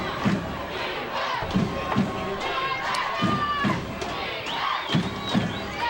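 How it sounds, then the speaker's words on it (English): A crowd in the stands at an East Brunswick high school football game cheers and shouts, a loud continuous roar with rhythmic thumping from jumping bleachers. "Crowd's alive."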